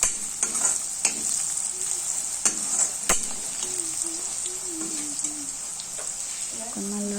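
Vegetables being stirred in a hot pan with turmeric, a steady close sizzle of frying with several sharp scraping strokes of the spoon against the pan.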